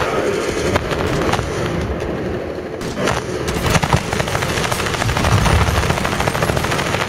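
Rapid gunfire from a shooting video game, dense bursts of shots and blasts running continuously and loudly throughout, with no talking over it.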